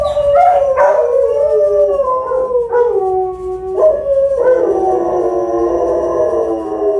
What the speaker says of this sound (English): that is actually like howling from this one's neighbors